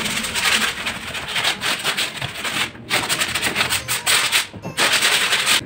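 Hand sanding of wood with abrasive paper during a repair, steady close rubbing strokes in quick succession with a few brief pauses, no talk.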